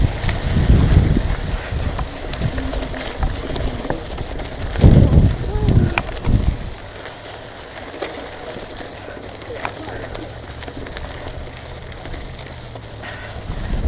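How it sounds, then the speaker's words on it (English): Gusty wind buffets the microphone on a trail in Frisco in autumn, with low rumbling bursts, louder early on, then settles into a steadier outdoor whoosh. "And it's windy, so which adds to the excitement."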